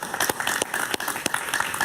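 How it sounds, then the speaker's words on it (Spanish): A TV talk show's studio audience applauds for arriving guest Alberto Padilla: dense, steady clapping from a crowd at close range, lasting a couple of seconds. "Un aplauso para Alberto, por favor."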